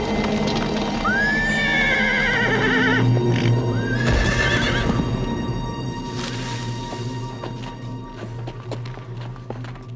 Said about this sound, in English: 14-year-old Trish Zemba saddled up her ex-race horse, Sly, and headed out for a ride.